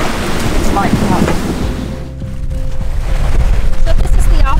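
Rain falling onto the open Pacific Ocean at sea, a steady dense hiss of drops on the water over rolling surf, loud and continuous throughout.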